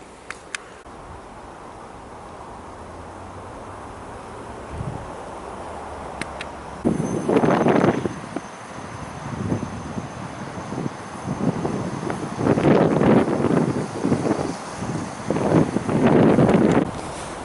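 Wind gusts across a snowy landscape garden, Catherinehof in Saint Petersburg, on a frosty day of about -16°C. It starts as a low, steady rush, then strong buffeting bursts hit the microphone through the second half.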